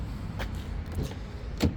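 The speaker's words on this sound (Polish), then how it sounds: "ta tylna kanapa, elektrycznie regulowana" The electrically adjustable rear seat of a 2022 Mercedes GLE 63 S 4Matic moves, with short whirring motor bursts and a soft thud inside the cabin.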